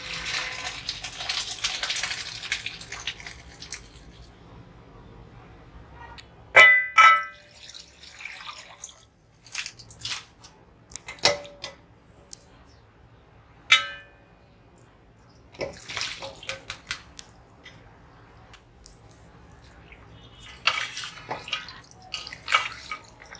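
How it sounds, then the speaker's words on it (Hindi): Boiled macaroni drained and cold water added in a kitchen, heard as trickling and pouring water with sharp clinks and clatters of a metal pot or strainer, in bursts separated by quiet pauses. "अब मैं इसका पानी निकाल कर इसमें ठंडा पानी डाल दूँगी"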